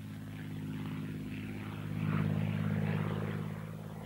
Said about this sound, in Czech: Spitfire byl rychlý, obratný letoun